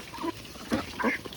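Ducks on a farm in Assam give a few short nasal quacks, fairly close but not loud, in a brief burst with no voices.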